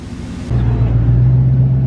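A GMC Sierra Denali pickup setting off: after a brief quiet moment, a steady low engine drone and road rumble rise inside the cabin and hold evenly to the end.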